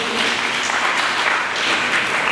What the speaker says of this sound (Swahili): Pigie tena Bwana Yesu makofi.